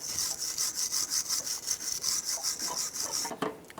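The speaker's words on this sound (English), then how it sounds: "Just want to clean the surfaces where your brake pads are going to be going." Rhythmic back-and-forth scraping as the brake pad contact surfaces on a 2001-2007 Ford Escape are cleaned, about a dozen quick rasping strokes close up, ending in a final scrape.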